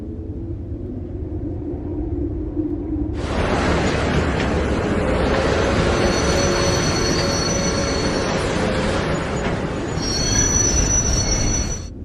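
Train wagon wheels roll loudly over the rails with a close, heavy rumble, then a sharp metallic squeal joins and holds over the clatter for most of the stretch, swelling again near the end.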